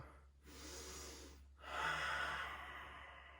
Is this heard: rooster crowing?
no